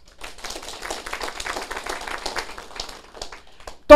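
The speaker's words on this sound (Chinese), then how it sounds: "拍手啦！" A lecture audience claps in a steady, dense patter for nearly four seconds, fairly close and even, ending with a sharper knock right at the end.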